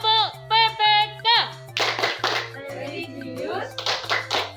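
Elementary school children at SDN Ngaliyan 03 perform the Tepuk PPK clapping chant, chanting words together in bright sung phrases over a steady, evenly spaced clapping pattern.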